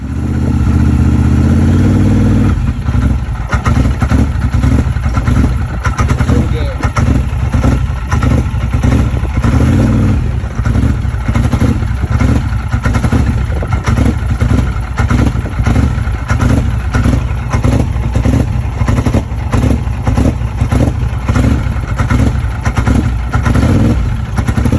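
Polaris Sportsman 850 Highlifter ATV engine running rough, a loud close idle with irregular stumbling pulses and clatter that go on steadily, with no talk over it.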